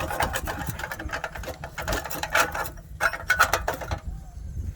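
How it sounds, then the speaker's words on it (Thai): A metal bolt and nut are worked onto a solar spotlight bracket mounted to a light pole, giving close, rapid bursts of rattling metallic clicks and scraping that come in uneven clusters with brief quiet gaps. "ร้อยน็อตใส่น็อตเข้าไปเลย"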